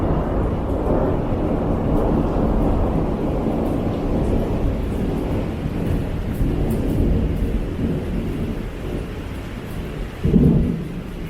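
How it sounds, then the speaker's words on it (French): Long, low thunder rolls through a storm after a lightning flash, a continuous deep rumble lasting many seconds over a background of rain, with a closer swell of grumbling near the end and no voices. "j'ai l'impression que quand même ce tonnerre, il dure beaucoup plus longtemps que les tonnerres que je connais"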